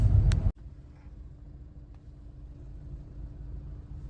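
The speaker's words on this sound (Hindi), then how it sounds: "बहुत ज़्यादा ट्रैफिक है यार" Heavy road traffic heard from inside a vehicle, a low, steady engine and road rumble that follows a brief loud burst at the start and slowly swells over several seconds.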